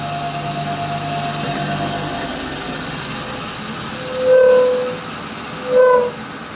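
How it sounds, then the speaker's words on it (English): An SNNC 583 P2 tool and cutter grinder running with its wheel removed, a steady smooth motor hum with two brief louder swells of tonal whine near the end. "we'll try it now that we've got the wheel off and see what it sounds like now"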